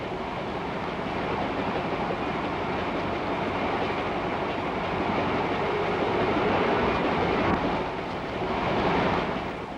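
A 1930s passenger train with lounge and diner cars runs along the rails, producing a steady broadband rumble and rushing roar with mild swells, close and continuous, with no talking.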